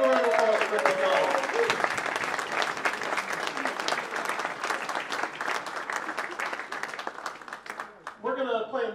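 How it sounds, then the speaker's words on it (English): Sustained audience applause for Rick McDonald at a 2019 Civil War Troopers event, dense clapping from a crowd for about eight seconds before fading, with a brief voice at the very end. "Everyone, give a round of applause for Rick McDonald."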